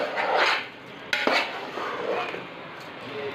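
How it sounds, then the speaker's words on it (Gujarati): Muthiya mixture with lemon juice being stirred in a bowl, a few scraping clinks of a spoon against the dish with one sharper knock partway through, close and fairly quiet, with no talking. "હવે બરાબર હલાવી લઈશું."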